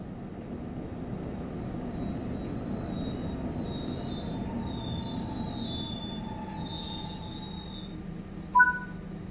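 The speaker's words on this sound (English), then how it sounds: "Bring the train to a stop now by applying the train brake." A train in Train Simulator brakes toward a stop at a London station, with a continuous low rumble and high, drawn-out wheel squeals, ending in a brief louder hiss.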